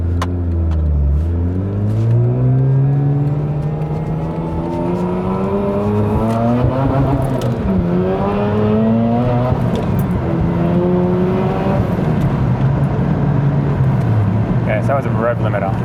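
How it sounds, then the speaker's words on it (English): A turbocharged Mazda RX8 with a Renesis rotary engine revs hard on a dyno, its loud whining note climbing repeatedly up to the rev limiter, dipping and rising again over sustained, close engine roar. "So that was a rev limiter."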